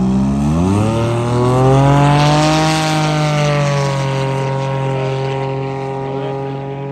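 A powerful racing powerboat engine roars past in a long sustained run, its pitch rising then settling as it recedes, loud and continuous, during a 100 km powerboat race at Mildura.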